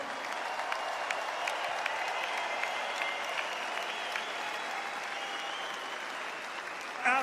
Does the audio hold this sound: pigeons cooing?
no